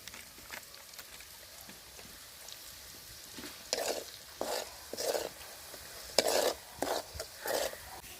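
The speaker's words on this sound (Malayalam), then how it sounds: "നമ്മൾ എണ്ണയ്ക്കകത്ത് നമ്മുടെ മെയിൻ സാധനം അച്ചാർ പൊടി ചേർത്ത് കൊടുക്കണം" Pickle powder frying in hot oil with ginger, chilli and garlic for a spicy nutmeg pickle, stirred in bursts of scraping and sizzling that grow louder in the second half, with no talking.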